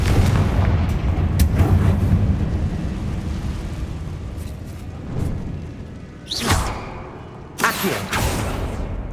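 Confringo spell explosions erupt during Hogwarts Legacy combat: a steady rumbling clash gives way to two sharp, loud blasts about a second apart, each with a brief whooshing tail.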